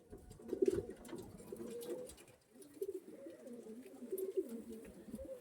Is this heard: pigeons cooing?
yes